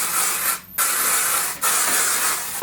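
Dry shampoo sprays from an aerosol can at the hair roots in three close, steady hissing bursts separated by two brief pauses.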